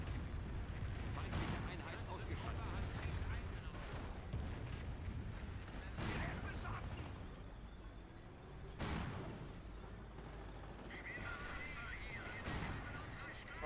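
Gunfire and artillery in a Company of Heroes match, dense overlapping shots and blasts rolling continuously with a few louder bursts, under a steady bed of battle noise.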